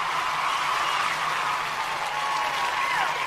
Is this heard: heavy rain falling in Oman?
no